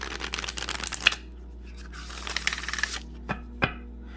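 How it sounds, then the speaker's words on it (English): Tarot cards are shuffled by hand in close, crisp bursts of rapid riffling flutter, separated by a quiet pause and a couple of sharp taps as the deck is squared. "One more shuffle."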